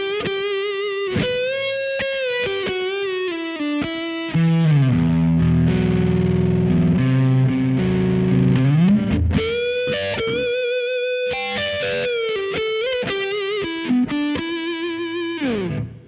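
A distorted electric guitar played through a Kemper Profiler, a loud sustained high-gain lead tone with singing bent notes and held chords, playing alone without any voices.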